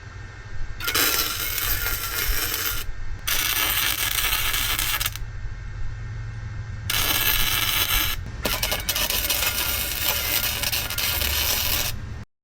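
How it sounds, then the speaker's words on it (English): MIG welding on a steel flatbed frame runner for a Ford Ranger 6x6 build, steady crackling buzz in four long bursts separated by short pauses, close and loud with no talking. "We're going to jump into welding these guys fully, getting that runner welded in as well."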